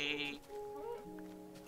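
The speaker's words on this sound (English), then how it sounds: "Sheep." Sheep in the video game Minecraft bleat in a short burst, fairly close and clear, followed by a quieter wavering call.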